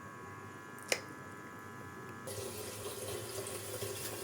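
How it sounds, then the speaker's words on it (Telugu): Tap water runs into a sink while fish are rinsed clean with turmeric and salt, a faint trickle that swells into a steady splashing stream after a short clink. "ఇవి మళ్ళీ కడిగేసుకుని మనం శుభ్రంగా పెట్టుకోవాలన్నమాట"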